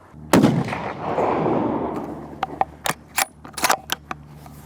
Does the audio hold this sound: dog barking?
no